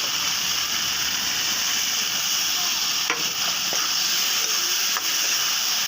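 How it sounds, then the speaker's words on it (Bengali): Spice masala frying in a wok with a little water added, a steady loud sizzle and hiss with a few faint clinks of stirring, no talk. "এখানে কষিয়ে একটুখানি জল দিয়ে দেবো কড়াইতে, যেন মশলাটা না লেগে যায়।"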